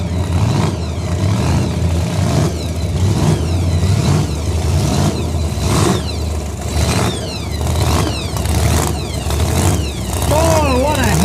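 Supercharged no-prep drag race cars at a Steel City event rev their engines in repeated loud pulses, a rough mid-range roar rising and falling, while voices talk over the noise.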